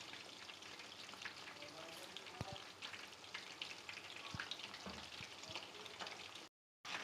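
Breadcrumb-coated boneless chicken pieces frying in oil over a low flame, a constant fine crackle and bubbling with a few sharp pops and light knocks, fairly quiet and close, cutting out briefly near the end.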